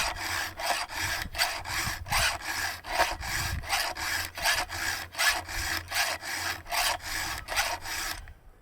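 A hand file is drawn steadily across the teeth of a chainsaw chain out in the field. The close, rasping strokes repeat at an even rhythm, about two per second, with no voices.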